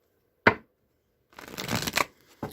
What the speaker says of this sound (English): now let's go ahead and shuffle again